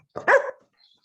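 A female dog gives a single short bark, close and fairly loud, followed by near silence.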